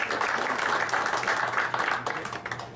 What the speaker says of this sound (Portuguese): Solicito uma salva de palmas a todos os convidados